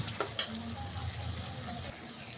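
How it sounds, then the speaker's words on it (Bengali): Potato curry spices with black pepper sizzle steadily in a hot pan, a close continuous frying hiss with a few light stirring scrapes and clinks near the start. "দিয়ে ভালো করে আমরা 1 থেকে 2 মিনিটের মতন কষিয়ে নেব।"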